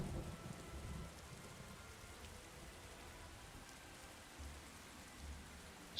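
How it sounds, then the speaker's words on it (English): Steady rain falls in a stormy scene in the Skyrim video game, a soft constant patter with low rumbles underneath and a sharper burst at the very end, fairly quiet overall with no talking. "Storm is getting quite loud."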